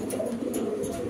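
Pigeon cooing fills the space steadily, with low, rolling coos repeating close by from a Romanian double-earring fancy pigeon; no voices are heard.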